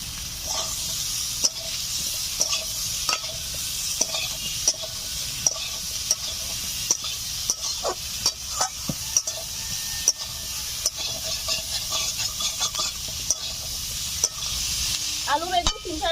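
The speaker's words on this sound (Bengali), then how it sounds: "আলু বেগুন 3-4 মিনিট ধরে আমি ভালো করে নাড়াচাড়া করে নিয়েছি।" Potatoes and eggplant with turmeric fry in a pan while a utensil stirs them, giving a steady sizzle broken by regular scraping knocks, close and moderately loud.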